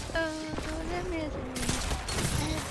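Pulse rifle fire in a first-person shooter video game, with rapid bursts of shots and pulsing electronic tones, loud and close, mixed with a person speaking over the action.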